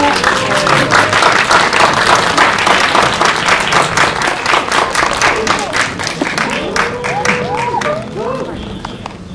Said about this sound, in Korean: 박수 많이 해주세요.